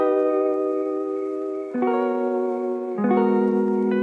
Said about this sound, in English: If you're wondering what that noise is, it is my fireplace.